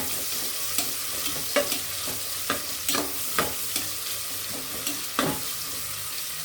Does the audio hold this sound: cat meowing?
no